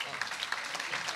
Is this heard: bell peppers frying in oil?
no